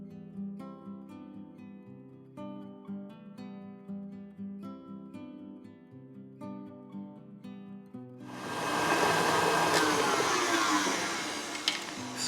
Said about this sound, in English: One at a time, beat in 2 large room temperature eggs.